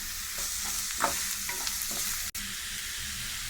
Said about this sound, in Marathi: जिरं, राई, कांदा चांगलं मिक्स करूया.